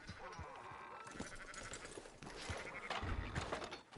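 Sheep bleat repeatedly in a PS4 video game, clear and fairly close, with voices talking over parts of the bleating.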